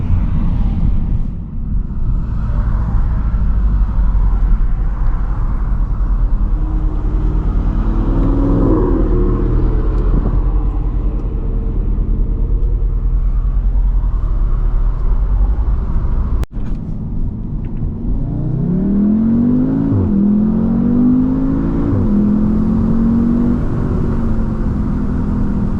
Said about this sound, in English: Here's some of these downshifts.